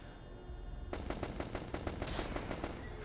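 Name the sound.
SMG firing a full magazine in a video game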